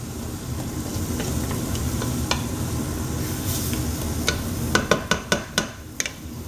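Crawfish étouffée bisque with the Trinity vegetables sizzles steadily in a pot, a spoon scraping and stirring through it, with a run of sharp clinks against the pot near the end.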